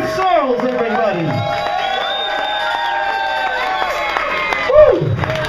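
A club audience at a musician's show at Austin's Continental Club cheers, whoops and claps loudly for the drummer, with a swelling shout near the end and a voice talking over the crowd.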